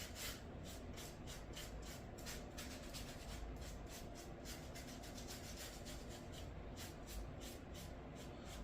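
A brush strokes Mod Podge across the top of a craft tile in quick, regular back-and-forth swipes, a soft close rasping rub repeated steadily.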